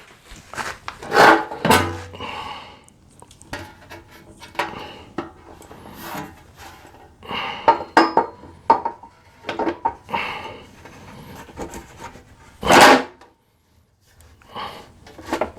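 A metal shield being fitted onto a Generac 4000XL portable generator, with close scraping, rubbing and rattling of sheet metal and several loud clanks and knocks as it is pushed and seated into place.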